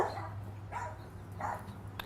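Excited neighbor dogs barking outdoors in a backyard, a few short muffled barks at moderate distance over a steady low hum, with no talking.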